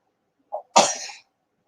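One close, sharp sneeze bursts out after a brief intake of breath, then fades quickly into silence.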